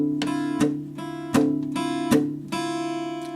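Acoustic guitar strums chords with a palm-muted, steady down-up rhythm, with sharp accented strokes recurring about every three-quarters of a second, played close and alone.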